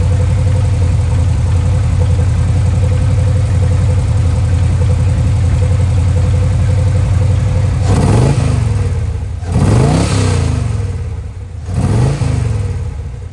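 A 1974 AMC Jeep CJ-5 Renegade idles close by, alone and without talk, with a steady low rumble that holds for most of the stretch. Near the end three quick rising revs or shifts swell and then fall back.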